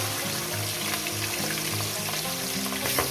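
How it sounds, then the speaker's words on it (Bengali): Pieces of katla fish fry in hot oil in a pan, giving a steady, loud, close sizzle with faint crackles throughout and no voices. "মাছগুলো কিন্তু কড়া করে ভাজবেন না"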